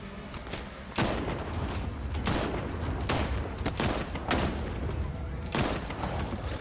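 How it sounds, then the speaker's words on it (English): Rapid gunfire bursts from Batman: Arkham Knight, fired at zombies, crackle in repeated loud volleys over a dense game soundtrack with brief booms and mechanical clanks. "Zombies, shoot them."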